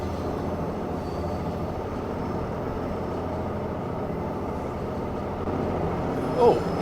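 A train in the Train Mechanic Simulator game rolls along with a steady, loud mechanical rumble that runs unbroken throughout, with a brief knock near the end.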